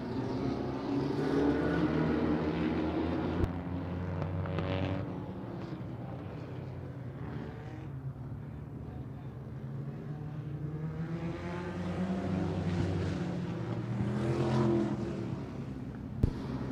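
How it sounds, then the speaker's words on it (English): Sprint cars and midget race cars racing on a speedway at Havasu 95 Speedway during a vintage racing association main event, their engines droning and rising and falling as they pass at moderate distance, with no talk over them. "Let's go sprint car midget racing."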